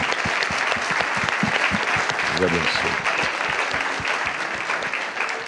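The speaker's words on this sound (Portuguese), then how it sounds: "Merece uma salva de palmas." Church congregation applause rolls on as dense, steady clapping, with a voice briefly speaking over it midway.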